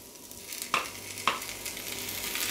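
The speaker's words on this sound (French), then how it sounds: "Donc la première moitié, je la mets dans ma poêle." Potatoes and onions for a tortilla fry in a pan with a steady soft sizzle, broken by two sharp utensil clinks against the pan early on.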